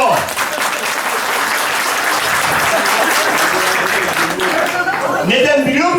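An audience at a public gathering breaks into sustained applause, loud and dense throughout, with crowd murmurs and a voice emerging over the clapping at the end.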